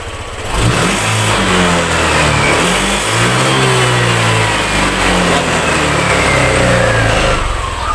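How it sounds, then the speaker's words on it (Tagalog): A Honda Click scooter engine, suspected of a faulty TPS sensor, revs steadily and loudly up close, its pitch rising and holding with no drop in RPM and no voices over it. "tapos try natin i-rev diinan lang natin sa harap"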